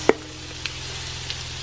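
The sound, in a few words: sweet potatoes frying in hot olive oil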